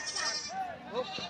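A goat bleats twice in quick succession, close by, with people talking around it.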